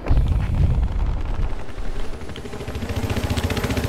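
A steady rotor thump of a video game transport helicopter throbs under scattered heavy explosions and gunfire, the chopping growing more regular toward the end.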